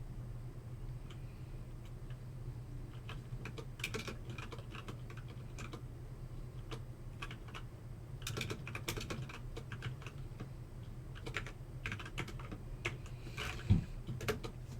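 Soft, quick keystrokes on a computer keyboard clatter in uneven bursts, faint and steady over a low background hum, with no talking.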